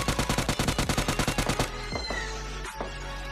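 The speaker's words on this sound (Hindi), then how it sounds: "उसको फायर करता हूँ डराने के लिए" Rapid automatic gunfire in the PUBG Lite video game, a fast regular burst of about a dozen close, loud shots that stops abruptly, followed by quieter game sounds.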